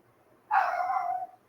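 A pet dog lets out a single sustained whining bark or yelp, close and clear, rising out of quiet room tone.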